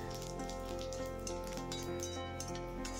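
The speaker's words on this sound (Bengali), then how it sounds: "দুটো তেজপাতা ফোড়ন দিলাম আর দিলাম হাফ" Bay leaves and panch phoron sizzling in hot oil, a soft, steady fine crackle that stays quiet and even throughout, under faint background music.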